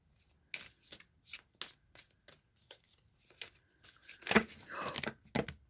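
Tarot and oracle cards shuffled and drawn by hand, papery flicks and riffles in an uneven rhythm that build to a louder rustling burst of scattering cards near the end, close and quiet with soft speech faintly present.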